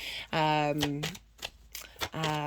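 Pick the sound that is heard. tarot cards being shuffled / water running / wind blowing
tarot cards being shuffled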